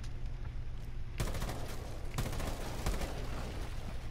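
Gunfire rattles in Rainbow Six Siege, rapid automatic bursts starting just past one second, with sharp cracks near two and three seconds, fairly quiet and with no talk.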